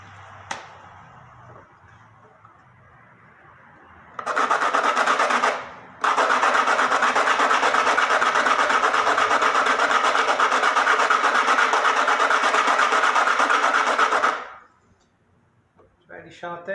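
Sandpaper rasps against a hard cumaru wood bridge for a Brazilian rabeca fiddle, a loud continuous scraping that starts, pauses briefly, then runs steadily for about eight seconds before stopping, with a voice speaking quietly around it.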